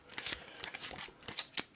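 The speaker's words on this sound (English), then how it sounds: "So we'll give it a quick shuffle." A deck of Eldritch Horror game cards shuffled by hand, giving a quick burst of crisp riffling snaps and slides, close and fairly quiet, with no one talking.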